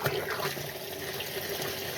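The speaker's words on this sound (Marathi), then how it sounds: "मी पाणी भरत लावलेलं आहे" Water running steadily into a tank, a continuous broad rushing and splashing that stays even throughout, close by and alone.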